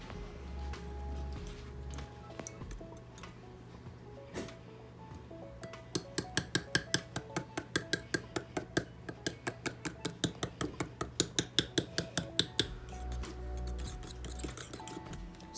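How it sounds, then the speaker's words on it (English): Two eggs are beaten in a bowl, a fork clinking against the sides in a rapid, even run of light ticks that lasts several seconds, close and alone. "I just stirred up the egg."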